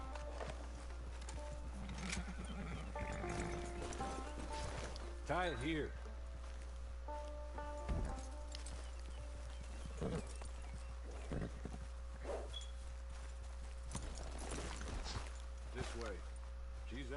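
Horse hooves clip-clopping with a few short neighs in a video game, under near-constant character dialogue and a steady low background hum.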